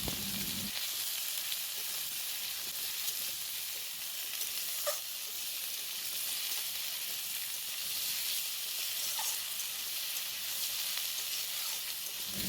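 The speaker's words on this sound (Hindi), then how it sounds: "तो मैं जिका और आलू का छोटे छोटे टुकड़े में काट के रखा था, तो उसको मैं फ्राई होने दे रही हूँ अभी।" Small pieces of ridge gourd and potato fry in a pan with a steady, continuous sizzle and hiss. It sounds close and carries on without pause, with faint clicks now and then.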